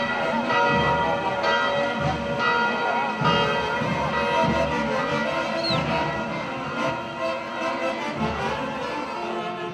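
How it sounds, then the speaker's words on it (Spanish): Church bells peal before the first mass of the day in Muruhuyay, Tarma, Peru, a steady, continuous ringing with layered ringing tones that carries throughout. "El repique de las campanas nos anuncian que ya va a comenzar"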